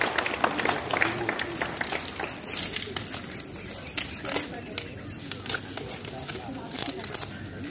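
Crowd applause welcoming guests at an International Yoga Day event in the district sports stadium, Kathua: steady, fairly distant clapping from many hands continuing for several seconds.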